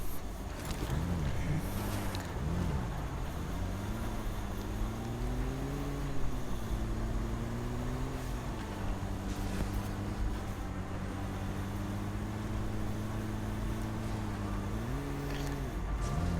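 A jeep engine in PUBG Mobile drones steadily with rising and falling pitch as it revs, its tire stuck in a broken wall; the loud, continuous motor hum runs throughout without spoken words.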